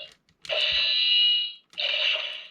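The Wolfdecalibur 50 toy sword plays electronic sound effects: two loud, bright, buzzing electronic tones, each lasting about a second, with a brief gap between them and no talking.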